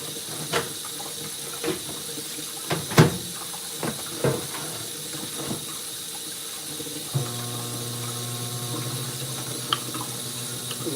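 Food is rinsed under a running kitchen tap with a steady hiss of flowing water. Clinks and knocks of handling break through it, and a second, lower stream of water joins partway through. No one speaks.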